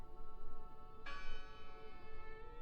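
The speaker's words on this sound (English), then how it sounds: "Listen. The bell." A single bell strikes about a second in and rings out with long, shimmering overtones over a low, steady ambient drone in the video game Draugen, sounding moderately distant with no voices.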